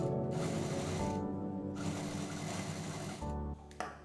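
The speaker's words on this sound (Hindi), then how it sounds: "क्विल्टेड को क्विल्टेड के साथ सिल देंगे और कपड़े को कपड़े के साथ सिल देंगे" A sewing machine stitches quilted fabric in fast continuous bursts with brief pauses between runs and a small clack near the end. The sound is close and moderately quiet, with no talking.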